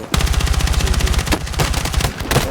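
Rapid automatic gunfire in the video game Battlefield 6, a loud, close burst of evenly spaced shots in fast rhythm, briefly pausing and resuming with scattered extra shots near the end.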